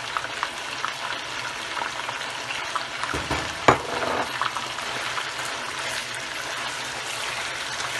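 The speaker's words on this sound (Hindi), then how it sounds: "लहसुन अदरक का पेस्ट और प्याज डाल देंगे।" Garlic-ginger paste and onion frying with chicken in a pot for white biryani, a continuous close sizzle and bubbling with one sharp stir or clatter near the middle and no voices.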